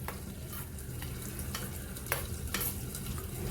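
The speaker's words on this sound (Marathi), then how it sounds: "छान मिक्स करून घेऊया." Paneer stirred and mixed in a hot pan for palak paneer, a soft continuous sizzle broken by a few sharp scraping clicks of a spoon against the pan, close, with no talking.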